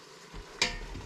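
A single quick stir inside an Instant Pot while making chicken and broccoli: one short clink and scrape of a utensil against the pot, close and moderately loud, with a quiet background before and after.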